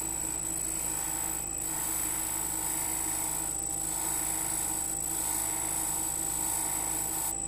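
An ADEMS sharpening machine for manicure nippers runs at its minimum speed of about 1,500 rpm, giving a steady, constant whine and hum with no breaks or other sounds over it.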